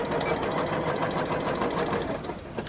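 A sewing machine runs close and steady while darning, its rapid even needle chatter holding for the whole stretch without pause.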